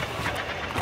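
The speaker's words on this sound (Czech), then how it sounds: "Je tu niekto na motorke." A motorbike engine in the Fortnite video game makes a brief, steady mid-pitched drone at even loudness, ending with a short sharper blip.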